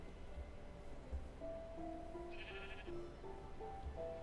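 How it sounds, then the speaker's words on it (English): Sheep bleating in the video game Minecraft, several drawn-out bleats in a row, fairly quiet and steady against a low background hum. "You got 3 sheep with you."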